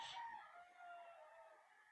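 A rooster gives one faint, distant crow that stretches out in a long falling call and dwindles into the background.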